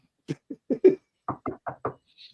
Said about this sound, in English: knock on wood if you're with me